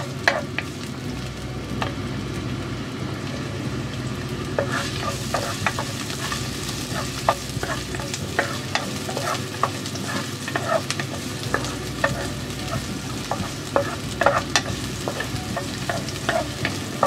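Ginger and garlic sautéing in a little oil, a continuous dense sizzle with frequent sharp crackles and spatula scrapes throughout, close and steady.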